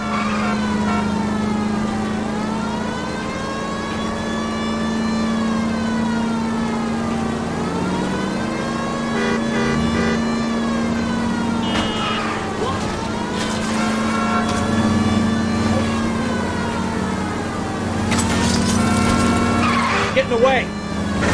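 Cars roar through an illegal street race in the L.A. Noire video game, with sustained loud engine drone, rising and falling revs and a siren wailing over it, under continuous talk.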